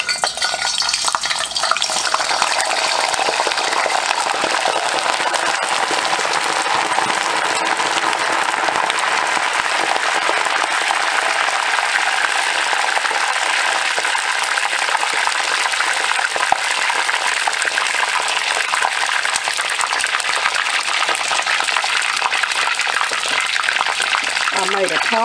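Wontons deep-frying in hot oil, a dense, steady crackling hiss that fills the whole stretch at close range with no letup, loud and continuous.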